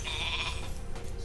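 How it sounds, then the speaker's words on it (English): A single short, nasal sheep bleat from the video game Spyro Reignited Trilogy, clear and close over a low game backdrop. "you wouldn't expect Toasty to actually be a sheep"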